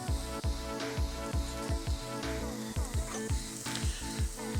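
A pork chop sizzles steadily in a hot pan as butter is added, a continuous bright crackle with rhythmic low thumps running beneath it.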